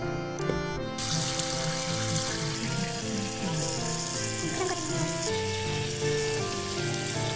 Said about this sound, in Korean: 뜨거운 물에 한번 삶아 깨끗이 씻습니다